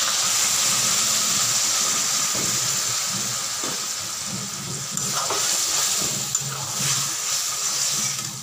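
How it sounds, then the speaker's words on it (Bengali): Mutton stock poured into a pan of frying mutton masala, producing a loud, continuous sizzling hiss with bubbling crackles throughout, steady and close. "মাটন সেদ্ধ করার যে স্টকটা ছিল সেটাই দিয়ে দিব।"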